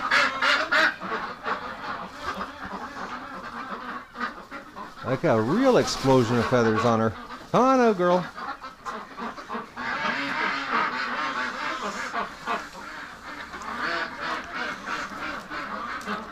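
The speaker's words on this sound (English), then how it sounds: "Actually, that's survivor duck, guys." A duck, a feather-ragged survivor among wintering ducks and geese, gives several loud honking quacks in short bursts near the middle, with someone talking close by before and after.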